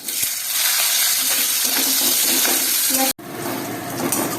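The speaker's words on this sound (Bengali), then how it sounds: "পেঁয়াজটা একটুখানি নেড়ে নিই গরম মশলাটা তেলের মধ্যে" Onions and whole garam masala with bay leaves sizzling and being stirred in hot oil for a rui fish stew, a steady close crackling hiss with small stirring clatters, broken by a brief silent gap near the end.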